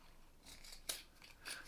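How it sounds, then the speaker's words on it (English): Fabric scissors slicing up the middle of quilt fabric pieces, several quiet crisp snips and rustles with one sharper cut near the middle, close and faint, no talking. "So you take your fabric scissors, cut right up the middle"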